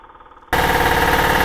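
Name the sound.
voice imitating a running motorcycle through an intercom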